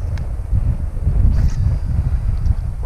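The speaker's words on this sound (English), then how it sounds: "Oh, go away, wind." Wind buffets an outdoor camera microphone while fishing for mangrove jacks, a steady low rumbling roar with gusty swells running through the whole stretch, no talking.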